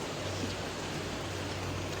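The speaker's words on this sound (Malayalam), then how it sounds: "പക്ഷെ മഴ നല്ല പെരും മഴയാണ്." Heavy rain pours steadily as an even, constant hiss with no breaks, moderately loud and close, with no voices or other distinct sounds cutting through the wash.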